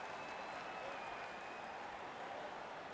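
Hockey video game arena crowd cheering and clapping in a steady, even wash of noise, fairly faint and distant, with no talk over it.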